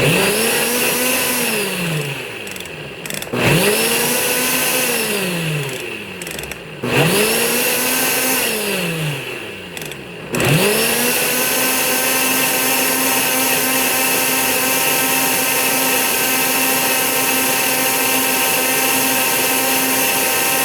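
A kitchen blender on its smoothie setting blends a protein shake, its motor whining up to speed three times in short bursts, then running loud and steady for a long stretch.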